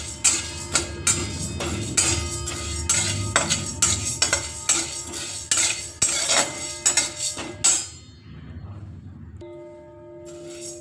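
Chana dal is dry-roasted in a pan while a metal spoon stirs it, giving rapid repeated scraping clanks and rattles over a grainy hiss that stop abruptly near the end.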